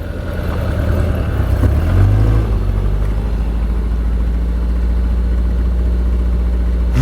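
A Mitsubishi Colt's engine turns over and catches, then settles into a steady, loud, close idle with a constant low rumble.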